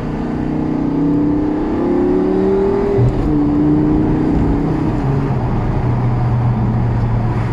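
A Lamborghini Gallardo LP560-4 with its valved exhaust in Corsa mode drones and rises through steady revs, heard continuously from inside the car.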